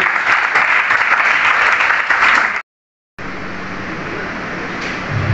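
Loud, dense applause from a crowd at a debate competition in India, cut by a brief silent gap, then continuing at a slightly lower, even level.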